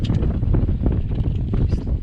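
Steady wind buffeting the microphone outdoors during an oil cooler replacement on a 2010 Astra J 1.8 petrol, a loud low rumble that roars without pause for the whole stretch, with no voices.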